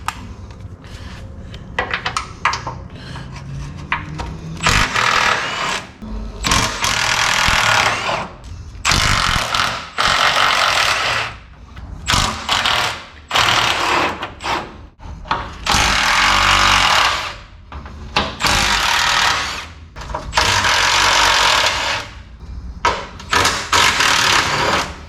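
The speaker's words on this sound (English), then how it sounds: "So just hit them with the electric ugga dugga." Electric impact wrench hammering loose 9/16 frame bolts on a Dodge Dakota during rear frame stripping; loud repeated rattling bursts of several seconds each, separated by short pauses, close by with no talk.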